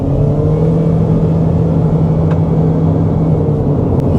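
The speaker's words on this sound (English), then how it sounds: "Shall we do another acceleration and call this the end of this video?" A Haval Jolion Hybrid car accelerating from 20, heard from inside the cabin as a loud, steady engine drone and low road rumble with a faintly rising tone.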